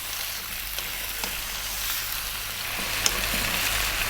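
Chicken and potatoes fry on high heat in a pan for Indian-style cooking, a continuous soft sizzle with occasional small crackles and pops, close by and fairly quiet, with no talking.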